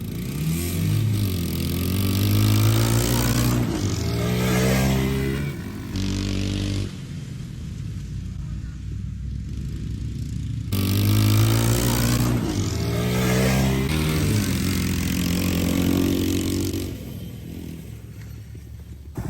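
Mini jeep with a 3-speed sequential gearbox racing a Suzuki DR200 dirt bike, engines revving and climbing through gear changes in two loud passes, each swelling then fading away.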